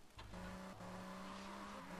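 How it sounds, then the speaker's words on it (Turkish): Car engine in GTA Vice City, a faint, steady droning hum that shifts pitch as the car pulls up, with no other sound over it. "Oo yeni araba geldi."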